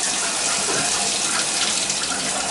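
A bathtub drains in an apartment bathroom with a constant gurgling rush of water running out, close and unbroken, with no one speaking.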